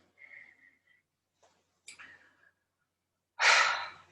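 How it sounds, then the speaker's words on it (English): Breathing in and out through the mouth during pranayama practice: soft, sparse breaths with faint whistling airflow, ending in one louder, rushing exhale near the end. "as you're breathing in and out of your mouth"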